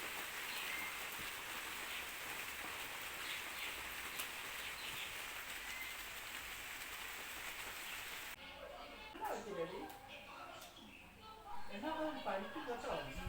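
Steady rain hisses evenly for several seconds, then it fades back as a voice begins talking over softer background sound.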